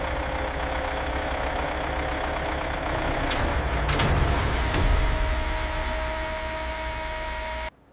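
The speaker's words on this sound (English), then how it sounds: "The engine is running smoothly." A restored heavy Titan X24 transport vehicle's engine idles steadily with a low mechanical knock, loud and close, alone with no talk, cutting off abruptly at the end.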